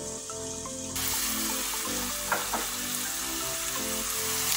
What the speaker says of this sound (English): after about 5 minutes of our minced beef cooking